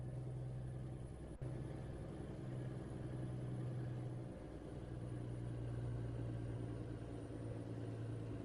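A truck engine idles in American Truck Simulator, a steady low rumbling drone with a faint wavering hum and one sharp click near the start.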